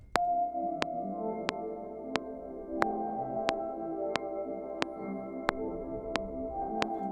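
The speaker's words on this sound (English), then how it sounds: "It's a beautiful way to add like randomization, some sort of randomized pad." Randomized atmospheric pad from Ableton's Granulator with high spray, a shimmering layered tonal texture of shifting held notes and steady rhythmic clicks pulsing through it, no speech.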